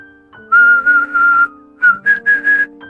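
Someone whistles a short tune up close, clear steady tones in two phrases with a brief pause between them, loud and alone.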